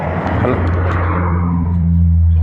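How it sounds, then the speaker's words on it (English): A car drives past outdoors on a busy street, a loud low rumble swelling and holding through the moment, with a voice talking over it. "the car just went by right now"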